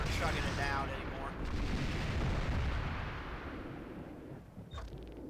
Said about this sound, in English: Those explosions aren't chugging it down anymore